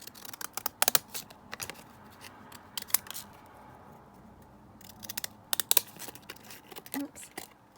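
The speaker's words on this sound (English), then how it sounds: "let's just cut this one down with the children's pinking shears" Repeated crisp snips of pinking shears cutting paper, in short bursts with pauses between, close and clear with some rustling.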